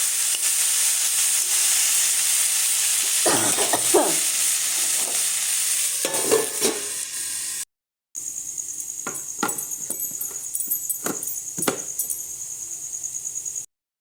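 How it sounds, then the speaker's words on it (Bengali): Steady hissing sizzle of food frying in a pan, with repeated scraping stirs and utensil knocks, close by; a brief gap of silence midway. "ভাজা হচ্ছে"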